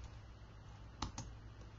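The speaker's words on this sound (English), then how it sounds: "I use my keyboard shortcut" A few faint keystrokes on a computer keyboard, two distinct clicks close together amid a quiet room hum.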